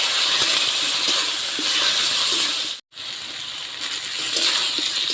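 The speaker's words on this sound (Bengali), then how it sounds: "এই দেখুন আমি এখন জল দিয়ে দিচ্ছি।" Water poured into a simmering pan of poppy seed paste curry with apple, papaya and potato gives a steady, close hissing rush that cuts out for a split second midway, then resumes at full strength.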